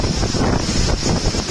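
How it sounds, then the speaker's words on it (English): Strong wind gusts of about 55 to 60 km/h buffet the microphone in the Balandra area, giving a loud, rushing roar that rises and falls briefly in pulses. "we are easily getting wind gusts at around 55,"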